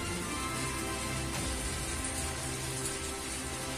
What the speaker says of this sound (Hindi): इस समय भी बारिश आ रही है।